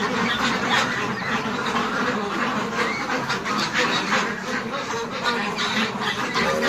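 A dense chorus of many French ducks on a farm quacking and squawking at once, loud and continuous, with crowd-like clamor throughout.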